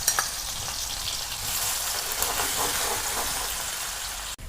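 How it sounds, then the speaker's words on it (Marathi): Garlic sizzles and crackles steadily in hot oil in a kadhai, a close, continuous frying hiss with light stirring and no talk. "1 पळी तेल टाकणार आहे आणि त्यामध्ये मी आता लसूण हा छान गुलाबी होईपर्यंत फ्राय करून घेणार आहे।"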